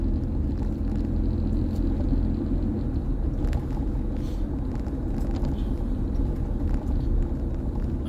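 A car drives along a winding, bumpy road in Southfield amid ongoing building and construction, its steady low engine and road rumble heard from inside the cabin for the whole stretch, with no one talking.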